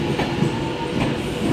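Virgin Super Voyager train rolling into Carlisle station on the West Coast Main Line, a steady, moderately loud rumble of wheels and carriages with faint rhythmic clatter, no voices.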